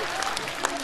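A theater audience applauds at a Chinese crosstalk comedy performance, a brief burst of dense clapping heard close, with a performer's voice over it.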